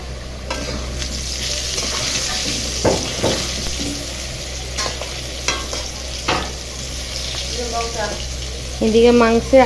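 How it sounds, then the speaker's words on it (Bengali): Potatoes sizzle steadily in a hot pan, with occasional stirring scrapes and clinks of a utensil close by. "আলু ভাজা হচ্ছে"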